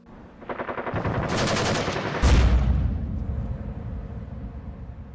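Gas blowback airsoft replica firing a rapid burst of loud, sharp cracks close up, followed by a heavier bang and a fading metallic rattle and hiss.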